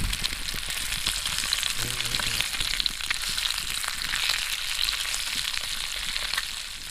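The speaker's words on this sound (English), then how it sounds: "Well, listen to that bacon." Bacon sizzles and crackles steadily in a pan, a dense, continuous frying hiss close up with no talking.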